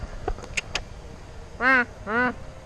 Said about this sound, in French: regardez, il y a un canard qui passe